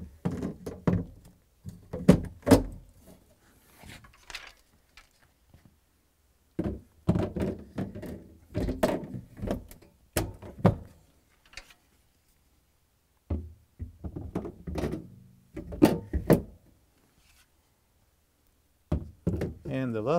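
Plastic shelves of a Samsung refrigerator being slid and seated back into place, producing repeated hollow thunks, knocks and scraping taps in irregular clusters separated by short silences, close by.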